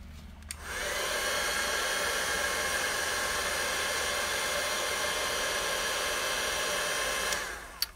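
Heat gun melting gold embossing powder on black cardstock, a steady whooshing hiss of blowing hot air that starts abruptly, runs evenly for about six seconds, then cuts off.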